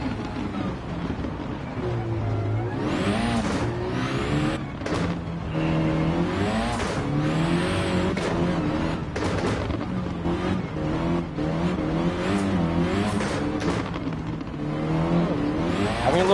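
An 80s Audi rally car in a sim racing game roars along a dirt track, its engine revving up and down continuously and loudly with gear changes, up close and alone.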